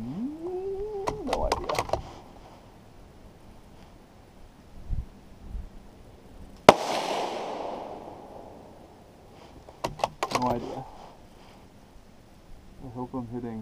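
One sharp, loud rifle shot from a Tikka T1X in .17 HMR cracks out midway and rings off, with someone talking before and after it.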